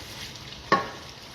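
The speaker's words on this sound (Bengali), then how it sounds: "আমি এই ভাজা মুরগি তেলের মধ্যেই আমি মুরগি রোস্ট করতেছি।" Chicken roasting in the oil it was already fried in, with chopped onions, sizzles faintly and steadily, broken by one sharp louder crackle midway.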